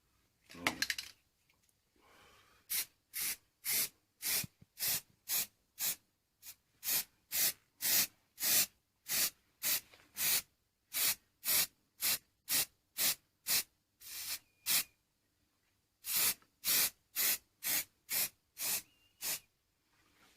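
Short bursts of spray paint hiss on a part from a 1979 Honda XL185S, about two dozen evenly spaced blasts in a steady rhythm, close and clear with brief silences between them.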